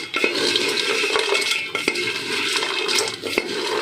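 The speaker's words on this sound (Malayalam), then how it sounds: "ബാക്കി വെച്ച പാനിയും കൂടെ ഇതിലേക്ക് ഒഴിച്ചു കൊടുക്കുകയാണ്" Leftover sugar syrup pours into a sweet sev mixture in a home kitchen, giving a steady wet, splashy rush with a few small knocks and clinks throughout.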